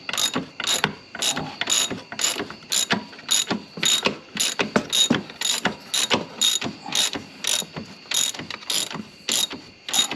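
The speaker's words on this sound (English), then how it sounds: "now I just tighten this up on the other side with a 14mm socket" A ratchet with a 14mm socket tightens a nut on the rear A-arm area of a Yamaha Grizzly 660 ATV, steady rapid clicking strokes repeating in a regular rhythm, close and clear throughout.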